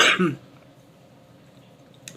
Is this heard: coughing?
yes